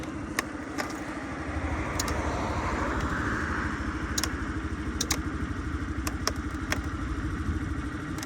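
A Honda Dio AF-62 carbureted scooter with 1900 km on it idles steadily nearby, a continuous low engine drone with a fine rapid pulse, with a few sharp clicks and clatters over it.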